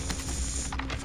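A quick mechanical weapon reload in Call of Duty on Rebirth Island: a short run of clicks and ratcheting metal parts, close and crisp, with no talking.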